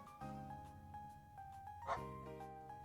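A dog gives faint, short barks and yips at a low level, with a steady tonal hum in the background and no talking.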